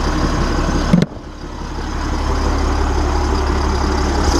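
A diesel truck engine with about 254,000 miles and no glow plugs idles steadily, a loud continuous low rumble with a brief knock near the start.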